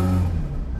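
Warm idle from a Ferrari fitted with a sport exhaust: a steady, deep, throbbing burble that is loud and close, with no talking over it.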